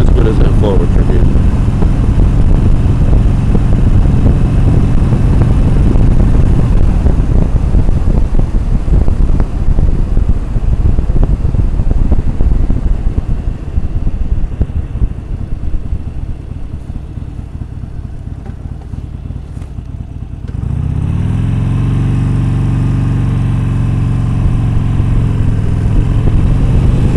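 Harley motorcycle riding along Sunset Boulevard, a steady loud engine drone with wind buffeting the microphone, easing off briefly before the engine note settles into a smoother, lower hum.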